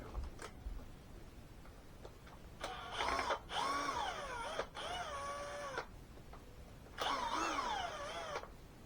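Screws being backed out of the rear differential on a Thunder Tiger Sledgehammer S50 RC car with a small power driver, several whirring bursts of a few seconds each with short pauses between, close and moderate, no talking.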